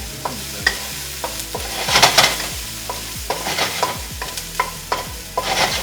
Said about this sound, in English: You got those aromatics in there. Ooh, look at those nice golden seared shiitake.